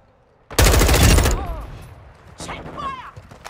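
Sustained burst of automatic gunfire in Call of Duty: Modern Warfare II, loud and close, then tapering into scattered shots as voices talk over the battle.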